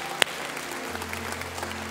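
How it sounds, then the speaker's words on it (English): A church congregation gives a round of applause, a steady, moderate wash of many hands clapping, with one sharp knock early and a low hum underneath. "this next round of applause is just for you"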